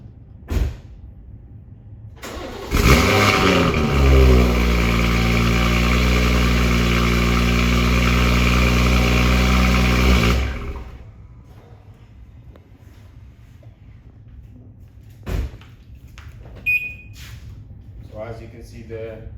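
A BMW G30 engine starts with a loud crank and settles into a steady idle for about eight seconds, then cuts off, leaving quiet surroundings with a few faint clicks and knocks afterward.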